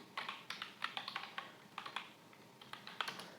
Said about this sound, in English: Okay, so I am typing like this.